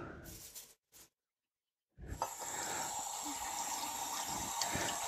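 A small splash of water is poured into a pressure cooker while cooking butter chicken, a steady close trickle that follows a few brief kitchen knocks.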